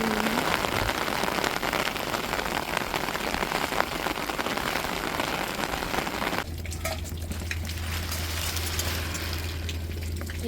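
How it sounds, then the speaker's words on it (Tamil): Steady rain falls outdoors in a dense, even hiss that holds throughout, with a low hum entering toward the end. "மழையை பாருங்கள் நல்லா"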